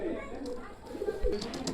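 Red-necked pigeons coo softly in a loft, low rounded calls repeating close by, with someone talking over them and a few sharper chirps near the end.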